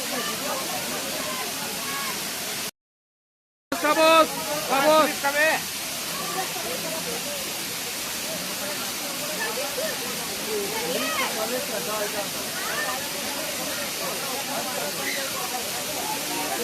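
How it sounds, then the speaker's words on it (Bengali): A waterfall pouring down a hillside in Purulia, Ayodhya, making a steady loud rushing hiss that fills the whole stretch, with a brief dropout and a short burst of voices over the roar. "আর ওই যে ফলস দেখুন, ফলসটা দেখুন কত সুন্দর। পাহাড়ের উপর থেকে জল পড়বে।"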